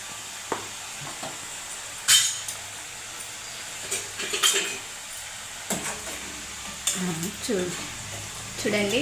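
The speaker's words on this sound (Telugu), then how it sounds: "చూడండి ఎలా పొంగుతుందో బిస్కెట్స్." Wheat flour biscuits frying in hot oil, a steady sizzle with bursts of bubbling and occasional clinks of a utensil against the pan, close and moderately loud.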